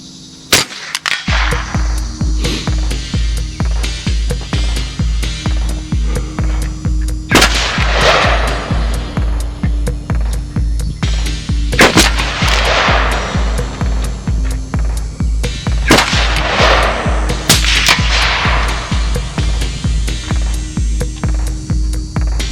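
Ruger 10/22 rifle shots ring out at an outdoor range, several sharp cracks spaced a few seconds apart over a steady low hum, loud and near, with no talking.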